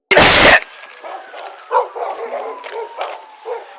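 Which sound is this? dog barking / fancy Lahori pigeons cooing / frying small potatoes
dog barking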